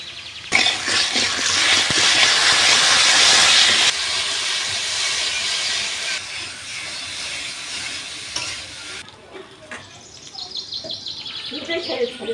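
Chili paste sizzles loudly in hot oil with tilapia fish for a bitter gourd curry, a strong frying hiss that eases after a few seconds into softer bubbling with faint stirring clatter.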